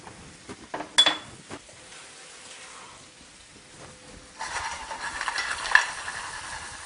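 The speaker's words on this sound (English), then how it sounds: "Stir it a little bit" Clams and parsley stirred in a pan with garlic, spoon scraping the pan with a clatter near the start, then a soft sizzle that swells louder toward the end, no talking.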